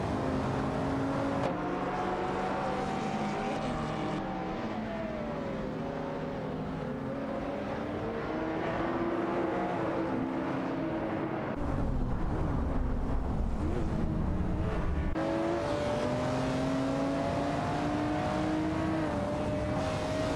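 Race cars, including a Porsche 911 GT3, drone past on a track as engines rise and fall in pitch through gear changes, a sustained mid-distance roar with overlapping cars and occasional wind buffeting.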